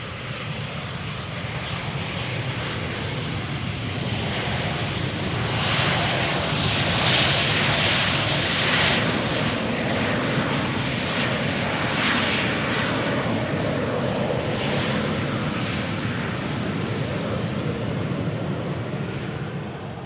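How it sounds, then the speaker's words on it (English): A KLM-liveried Embraer 190 regional jet arriving at Amsterdam Schiphol produces a loud, continuous broadband engine roar that swells and then eases slightly, with no talking. "German Airways, flying for KLM, Embraer 190 arriving from Bordeaux"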